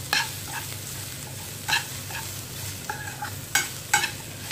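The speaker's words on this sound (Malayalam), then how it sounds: "പൊടികളുടെ എല്ലാം ഒരു പച്ചമണമൊക്കെ മാറുന്നത് വരെ നമുക്കിതൊന്ന് നന്നായിട്ട് ഇളക്കി കൊടുക്കാം" Snake gourd stir-fry with spice powders cooking in a pan over raised heat, a steady soft sizzle with a few distinct scraping strokes of a spoon stirring, close and alone.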